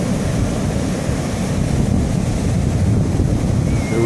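Ocean surf rolling in at Ocean Beach pier on a December day with a rising tide, steady broadband wash of waves mixed with loud wind buffeting the microphone, continuous and close with no voices.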